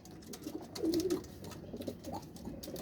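Ferozpuri pigeons give soft, low cooing calls nearby against a faint background hiss, with a couple of murmuring coos spread across a few seconds.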